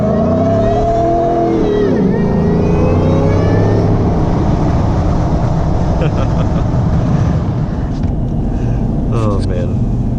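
A 700 HP Shelby F150 Tonka Edition pickup revs hard and spins its 325 rear tires, a loud, sustained engine roar with rising and falling pitch and broad tire hiss, close by and steady throughout.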